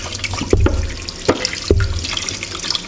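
A kitchen tap runs steadily while raw chicken is washed under it, a continuous close splashing hiss with a few soft knocks and drips, and no talk.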